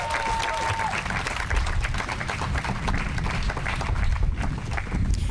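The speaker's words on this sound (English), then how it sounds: "You can clap on that." An audience at an outdoor groundbreaking ceremony claps steadily throughout, a continuous crowd applause with a low rumble of wind or handling noise underneath.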